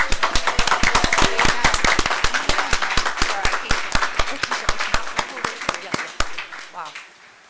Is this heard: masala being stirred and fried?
no